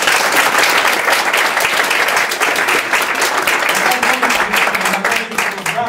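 Dense, sustained applause from a large audience fills a volunteering gala hall, a loud continuous wash of clapping with no pauses.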